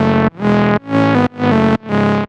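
Bright, buzzy supersaw synth built from six slightly detuned unison voices through hard-clip distortion, playing five loud sustained chords in a steady rhythm, each held about half a second with short gaps, no other sounds.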